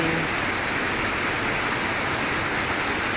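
Steady, dense roar of a waterfall at Gunung Gio in Nagan Raya, an unbroken rushing wash of falling water heard up close with no other sounds over it.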